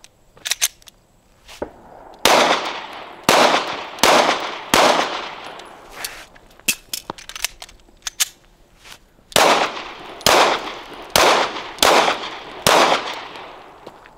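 Sharp, loud gunshots from a Smith & Wesson M&P 2.0 Metal pistol during tactical target shooting, fired in quick pairs and irregular bursts of single cracks with brief pauses between strings, no talking.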